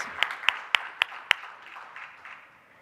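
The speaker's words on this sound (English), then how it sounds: "A round of applause again to our amazing educators." At a board meeting, a handful of sharp, separate claps ring out at a steady pace, then fade into a soft, diffuse hum of distant applause.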